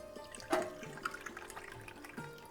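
Roughly two cups of water are poured into a cooking pot in a kitchen, giving a soft, faint splashing and trickling with a brief louder gush near the start.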